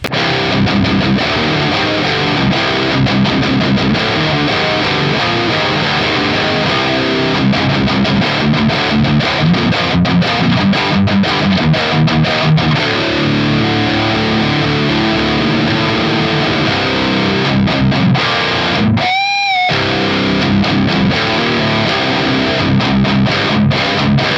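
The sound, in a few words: electric guitar through 5150-style distortion amp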